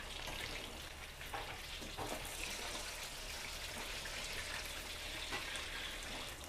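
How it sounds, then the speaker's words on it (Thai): Dense, steady sizzling and crackling of battered pork belly frying in hot oil, continuous and close, with no voices. "เดี๋ยวจะทอดต่อให้สีแบบเหลืองทองอลามฉ่ำเลยนะ"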